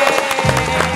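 A studio audience on a talk show applauds a guest, giving a brief burst of dense, crowded clapping.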